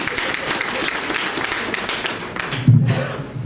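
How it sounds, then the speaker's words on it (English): Applause from a breakfast-meeting audience at a UIF commissioner's event, a steady patter of clapping filling the room at moderate loudness with no talk over it. "Round of applause"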